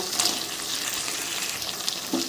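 Spices, ginger paste, tomato and fried lentil dumplings frying together in a pan for a Bengali taro curry, heard as a brief, close, even sizzle with a couple of faint clinks and no speech.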